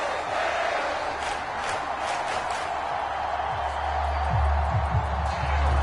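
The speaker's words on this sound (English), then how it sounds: "This crowd alive again." A stadium crowd in a football video game roars as a fourth-quarter comeback ties the game, a broad sustained cheer filling the whole stretch with low thumps building near the end.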